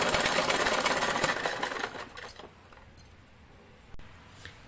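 A sewing machine double-stitching a blouse seam, a fast steady mechanical whirr that runs for about two seconds and then winds down, followed by faint handling noises and a brief click.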